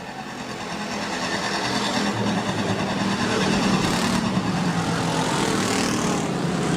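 Sportsman class race cars start a heat race at Rapid Speedway, their engines swelling into a loud, sustained roar that builds as the pack accelerates off the green flag.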